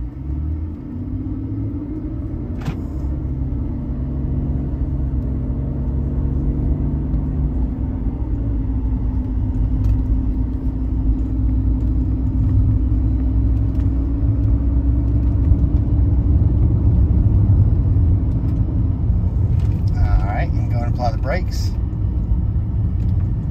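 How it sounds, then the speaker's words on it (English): A 2003 BMW 330xi on a test drive, its steady low engine and road rumble continuous and fairly loud throughout, with faint brief clicks and a short higher whine near the end. "we're going to go ahead and take it on a quick test drive."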